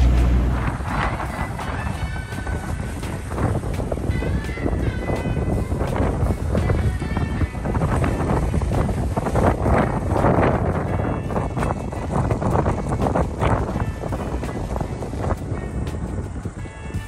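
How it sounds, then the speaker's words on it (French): A sailboat's engine runs at anchor off Angra do Heroísmo during a small storm, a continuous rumbling drone mixed with gusting wind noise on the microphone and faint rattling, steady throughout. "le bruit de fond que vous entendez, malheureusement, ce n'est pas la mer, mais le moteur"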